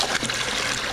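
Water pours and trickles steadily into a pool skimmer, rinsing away caked DE filter powder, heard close and continuous for about a second.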